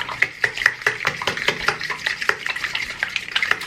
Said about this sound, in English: Now we are gonna whisk them around with a fork.